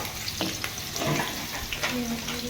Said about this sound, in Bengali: মাংস অলরেডি গরম তেলে আমি পেঁয়াজ দিয়ে দিয়েছি।